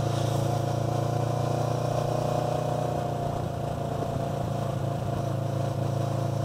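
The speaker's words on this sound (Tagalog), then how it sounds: "Another one, engine braking." A motorcycle engine hums steadily under engine braking through a corner, a constant droning note with a slight dip partway, close and continuous.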